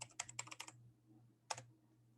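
Someone types on a computer keyboard in a quick run of close, crisp keystrokes, then pauses, then strikes a single key after the gap, over a faint steady hum with no voices.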